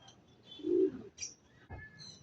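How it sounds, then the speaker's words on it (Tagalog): Birds alight nearby and give a few brief calls: a soft cooing note, then short chirps and tweets, quiet against a hushed outdoor background. "dumapo na mga kaibon"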